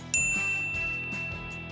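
A single bright notification-bell ding strikes near the start and rings on with a long, shimmering decay, clear and alone with no voices.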